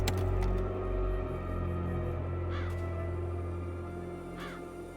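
A raven cawing in the Chains of Satinav video game: two or three short, harsh caws spaced a couple of seconds apart, over a steady ambient drone.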